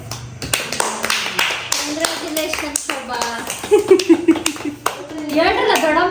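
At a family cake cutting, a group bursts into hand clapping, a dense patter of claps over several seconds mixed with excited chatter and children's voices nearby.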